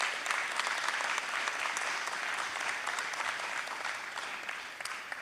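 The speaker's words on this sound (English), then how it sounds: "Give yourselves a round of applause." A graduating high school class breaks into sustained applause, a dense, even wash of many hands clapping at a distance, holding steady throughout without any talk.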